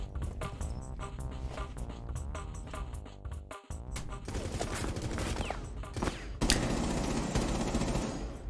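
Rainbow Six Siege gunfire crackles in rapid bursts and sustained volleys over a background music bed, with the firing intensifying toward the end.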